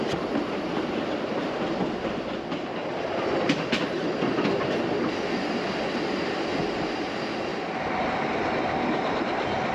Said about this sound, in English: we are soon across and chuffing along through the countryside